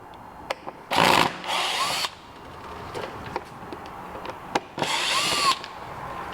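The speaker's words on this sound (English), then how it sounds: "I'm going to use some power tools" A power drill spins out coarse-thread Phillips screws from the air filter box of a Piaggio BV400 scooter, in two short, loud whirring bursts separated by quieter clicks and handling noises.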